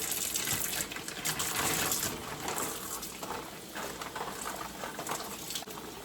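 Water runs steadily over a slab of smoked pastrami beef being rinsed of its spice crust, a close gushing splash with shifting intensity.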